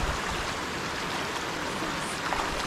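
A river flowing in the countryside at Mavis Bank in St. Andrew, Jamaica, giving a steady, full rush of water that fills the whole moment without a break and with no voices.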